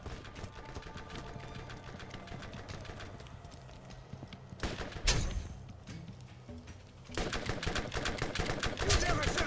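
SMG gunfire in the Borderlands video game rattles in dense rapid bursts, loud and close, with a sharper burst midway and the fire continuing strongly to the end.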